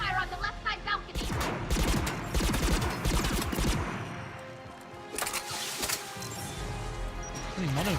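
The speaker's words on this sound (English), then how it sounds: "Crossfire on the left side balcony!" Bursts of gunfire crackle in a crossfire in the video game Mass Effect 3, rapid overlapping shots and impacts in uneven clusters, fairly loud, with a brief pause midway before firing resumes.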